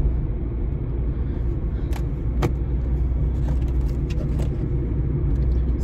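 Steady road traffic rumble with a bus idling or moving behind a car, a continuous low-pitched drone with a few brief higher clicks and rattles on top, close and fairly loud throughout.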